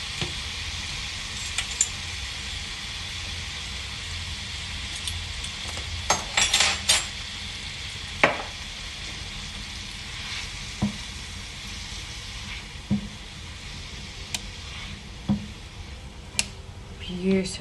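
Caraway seeds sizzle steadily in a hot pan, with a soft continuous fry broken by scattered clinks and scrapes of a utensil stirring against the metal.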